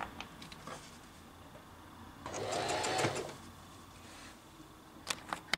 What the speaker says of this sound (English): finished stitching the satin bonnet with the velvet headband